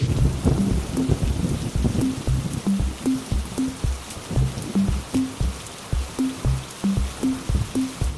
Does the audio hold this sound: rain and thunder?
yes